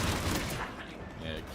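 Rapid gunfire in the video game Mass Effect makes a dense, continuous crackle with low booms underneath, loud and steady through the short stretch.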